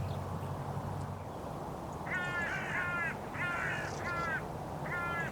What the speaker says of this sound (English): seems to have wound up the hooded crows, and not 1 but 4 of them have come down into land